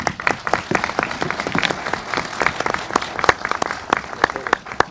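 A studio or hall audience claps during a Turkish talk program, a lively run of sharp, distinct hand claps building into sustained applause, close and fairly loud with no speech over it.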